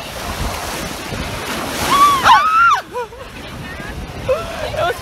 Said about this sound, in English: We're here at the beach.